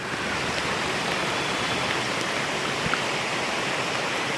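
Rainwater running hard through a street in Junagadh during heavy rain, a loud, steady, broadband rushing roar that stays constant throughout, with no voices.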